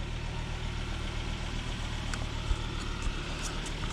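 A Volvo V70 non-turbo engine idles with a newly fitted catalytic converter, giving a steady, low rumbling exhaust drone heard close up, with a couple of faint clicks.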